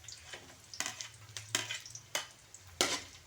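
Garlic frying in a pan for squid adobo: steady close sizzling broken by several sharp bursts as it is stirred and tossed, roughly every half second to second.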